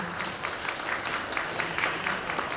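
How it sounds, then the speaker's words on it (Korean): An audience at an international literary forum applauds four translators and a moderator, a steady, fairly faint wash of many hands clapping throughout. "이렇게 네 분의 번역가분들 그리고 우리 방교영 좌장님께 다시 한번 뜨거운 박수 부탁드리겠습니다"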